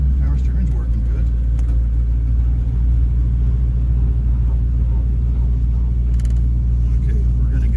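A 1964 Ford Thunderbird engine on a test drive, a steady loud low rumble from inside the car as the throttle is applied, constant and unbroken throughout.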